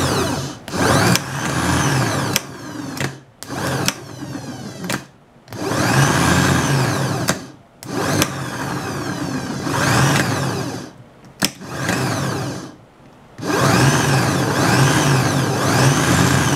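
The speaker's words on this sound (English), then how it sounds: "Let's run the motor and the solenoid." A 1994 Saab 9000 starter motor and solenoid run on the bench in repeated bursts, each a loud, steady motor whine lasting a second or more, separated by short silent gaps.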